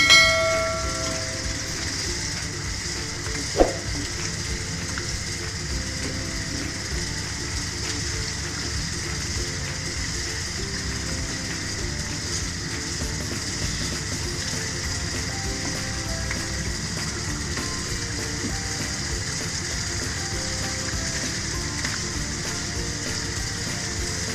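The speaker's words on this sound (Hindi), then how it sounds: "अब इसमें घी डालना है।" Ghee is added to cooked yogurt in a pan for white mutton karahi and sizzles with a steady, continuous hiss. A single sharp clink comes early on.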